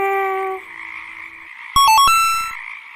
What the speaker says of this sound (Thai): ฟังเสียงมันร้องสิคะเด็กๆ เจ้ากบตัวนี้อยู่ที่ไหนนะ